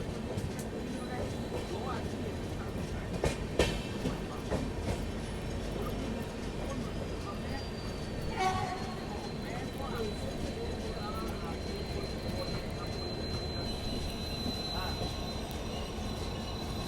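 Steady rumble of a first class AC coach on a train near Ujjain rolling along the rails, with a faint squeal and a brief clatter, carrying on evenly throughout beneath murmuring voices.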